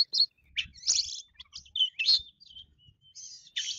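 A small manggar bird (munia) chirps and tweets in rapid, high-pitched bursts with short pauses, close by and clear against a quiet background.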